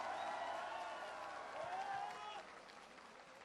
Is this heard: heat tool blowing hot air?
no